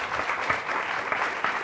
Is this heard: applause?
yes